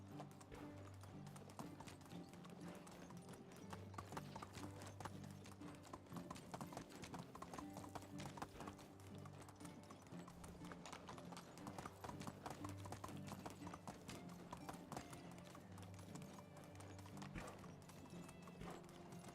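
Horse hooves clip-clopping at a steady galloping rhythm in the medieval survival game Medieval Dynasty, close and continuous, with a brief whinny and a faint voice in places.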